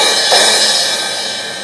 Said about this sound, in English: Here's the 18-inch Raw Bell Crash version that I just showed you.